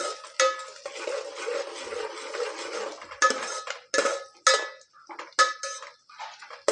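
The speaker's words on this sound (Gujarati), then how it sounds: "હવે બરોબર આપણે મિક્સ કરી લઈએ" Onions and green chillies being mixed in a pan with a utensil for tomato-onion chutney, a series of close metallic scrapes and clinks in irregular bursts separated by short pauses, with no talking.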